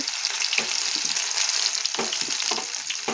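Chopped green chillies, onions and tomatoes tipped into hot oil in a frying pan for a vegetable curry: a loud, steady sizzle close by, broken by several sharper stirring clatters, with no voices.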